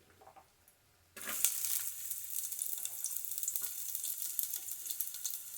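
Onions dropped into hot oil for tomato rasam burst into a loud, steady sizzle after a second of near silence, crackling up close and continuing to the end.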